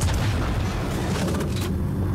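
Electron bolt shot from an Atzkav sniper rifle in the Star Citizen video game, a dense, sustained low boom that fills the whole moment with a crackling electric edge and no voices.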